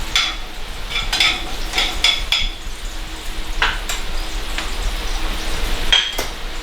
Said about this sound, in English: Now I'm just going to let that saute quickly.